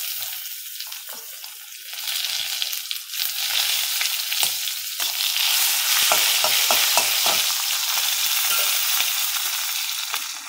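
Green chillies and ginger pieces fry in a pan with a bright, continuous sizzle, stirred with scraping clicks that grow louder and busier partway through.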